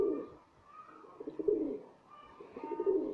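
Pigeons coo on a rooftop in soft, repeated rolling phrases, fairly close, with short pauses between calls.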